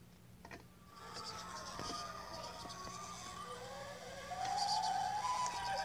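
Siren Head's siren wails in a Roblox game, a rising, sweeping electronic tone that swells louder toward the end over steady background game noise.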